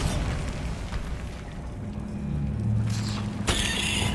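Bombarda spell blasts in Hogwarts Legacy: a deep boom rumbles through the middle, followed by a sharper burst near the end, with no voices.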